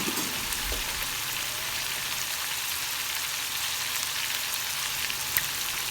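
Green chicken pieces frying in a home pan give a steady, close sizzle of oil crackling without a break, with a faint clink near the start and no voices.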